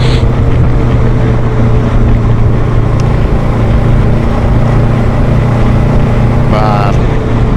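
Riding a Honda VFR800F motorcycle brings a constant loud rush of wind buffeting over a low engine drone, with a muffled voice partly buried in the noise.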